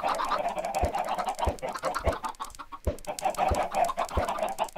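Chickens clucking in the video game Minecraft: a steady run of soft clucks and bird calls, repeated close by, with no talk over them.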